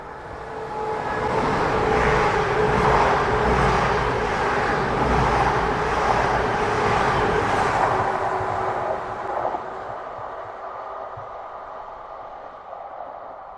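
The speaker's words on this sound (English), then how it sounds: "Train 1 Victor 66 passing at speed" Express passenger train 1V66 racing through Alnmouth Station, a loud sustained roar and rumble close by that holds for several seconds, then fades away.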